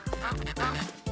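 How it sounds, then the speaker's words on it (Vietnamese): A duck quacks several times in quick, nasal succession, close and fairly loud, filling the whole short moment with no other sound. "Vịt này."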